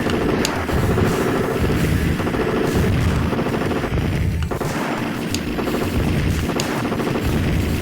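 Game gunfire from a light gun video game played on an AtGames Legends Ultimate arcade cabinet: loud, rapid, continuous shots and bursts over a dense game soundtrack.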